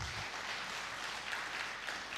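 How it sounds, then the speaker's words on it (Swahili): An audience claps for presenters at a Global G.A.P. event in Tanzania, a brief burst of steady, evenly dense applause. "Naomba tunanywe tuwapigie makofi."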